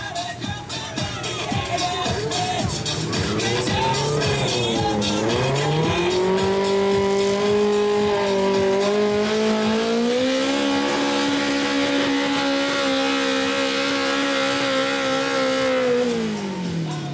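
A garden tractor's engine revs hard at a tractor pulling event in Foldingbro, Denmark, a loud sustained roar whose pitch climbs, dips and climbs again as the machine strains through its pull.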